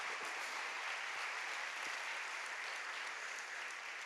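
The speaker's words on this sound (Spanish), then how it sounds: "denle un aplauso al Señor" A congregation at a church sermon gives steady, dense applause that sounds somewhat distant and soft. The clapping holds evenly for several seconds with no speech over it.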